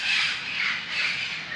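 Birds squawking nearby outdoors, a continuous harsh rasping chorus that swells twice, loud and close with no talk over it.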